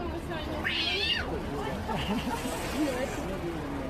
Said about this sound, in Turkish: Kedi gibi miyavlamak